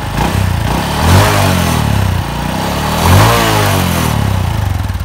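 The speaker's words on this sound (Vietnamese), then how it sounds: "Mà chú cho nổ máy cái chú. Nổ nẹt nẹt cái hai cái là nghe." A 2008 Honda Neo Fi motorcycle idles loudly up close with a rapid chugging exhaust beat, then gets two quick throttle blips that rise and fall around the one- and three-second marks.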